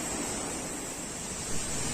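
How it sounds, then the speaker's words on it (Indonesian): Curug Sawer, a waterfall about 35 meters high, gives a steady, dense roar of falling water that fills the scene at close range, unbroken and without voices. "Inilah air terjun atau lebih dikenal warga sekitar Curug Sawer ya."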